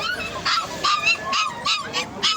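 Puppies at an outdoor dog market whimper and yip in a quick, repeated series of about six high, close cries.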